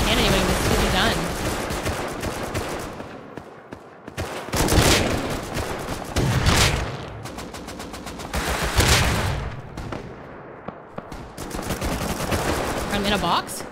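Video game shooter gunfire rattles in repeated loud automatic bursts and single shots, with dense overlapping fire and short lulls between exchanges, while someone talks over the action.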